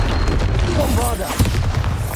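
A Bombarda spell explosion in Hogwarts Legacy booms low and heavy amid a dense wash of game combat noise and a speaking voice.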